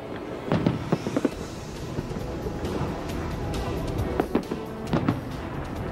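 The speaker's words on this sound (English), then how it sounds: "small clumps of people have gathered all around this area watching the fireworks" Fireworks bursting over the closed-off Las Vegas Strip, heard as several sharp distant pops and booms in clusters against a steady low city rumble.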